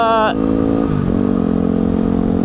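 A Yamaha WR250R motorcycle engine drones steadily while the bike rides along a twisting country road, and a voice cuts across the loud, continuous hum near the start.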